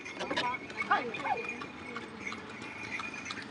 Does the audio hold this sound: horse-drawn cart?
yes